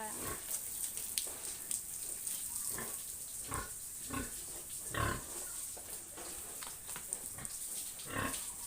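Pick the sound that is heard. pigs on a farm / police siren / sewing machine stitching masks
pigs on a farm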